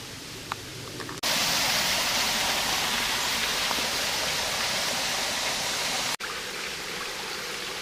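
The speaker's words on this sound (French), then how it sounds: "Arrivé au petit ruisseau" Steady broadband rushing of water from a small stream on a hiking path near Norolles, continuous and fairly close, with brief quieter moments at the start and end.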